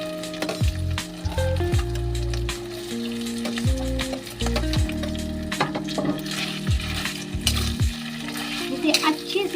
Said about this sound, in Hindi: इसे अच्छे से आप फ्राई करें आलू को मैश करके।